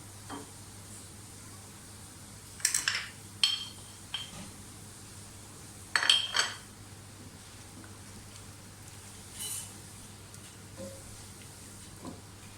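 Minced meat with ground spices and whole coriander frying in a pan, a soft crackling sizzle with several brief stirring scrapes in clusters, close but fairly quiet, no voices.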